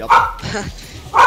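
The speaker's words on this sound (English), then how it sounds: "Oh, that's a dog." A dog barks twice, short and close, coming through a teammate's headset microphone during a team video game match, with voices talking around the barks.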